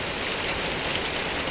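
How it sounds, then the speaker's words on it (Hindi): Heavy downpour in Jammu during a weather alert, a dense, steady roar of rain hissing on surfaces, loud and continuous with no voices over it. "ये फिर से धुआंधार बारिश"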